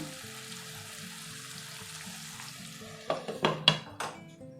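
Chicken and potatoes frying with curry leaves in a pan, a soft steady sizzle under a low hum, then several sharper bursts of crackling and clatter near the end as the pieces are turned.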